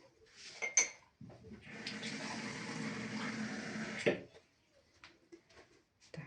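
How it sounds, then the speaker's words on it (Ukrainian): Water from a kitchen tap pours into a bowl for a beliashi mince filling: a steady rushing hiss of about three seconds, framed by light clinks of dishes before and after. "зараз я наберу води"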